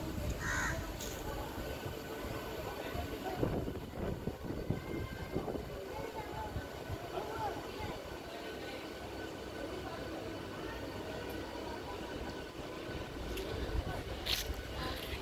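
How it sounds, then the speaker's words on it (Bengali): A passenger train rolling slowly into Digha station, a continuous low rumble and rattle of carriages heard from onboard, with crows cawing and a voice speaking over the noise. "ট্রেন আস্তে আস্তে যাচ্ছে, এরপর আমরা নামবো।"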